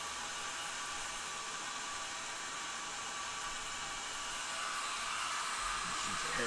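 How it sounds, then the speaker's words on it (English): A hair dryer blows on a McFarlane Toys Hellblaster Primaris marine figure to soften a plastic nub, a steady close whooshing roar of broadband air noise throughout, rising slightly toward the end. "This is a hair dryer. Warm up that nub."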